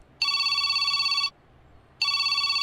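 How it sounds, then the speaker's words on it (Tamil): Telephone ringing with an incoming call: two bursts of an electronic ring, each about a second long, separated by a short pause, clear and alone against a quiet room. "என்ன இது கிளாஸ் டைம்ல ஃபோன் பண்றா?"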